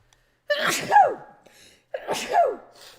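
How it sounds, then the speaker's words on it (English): A woman sneezes twice, close and loud, with a short quiet gap between the two sneezes. "Oh, I'm gonna sneeze."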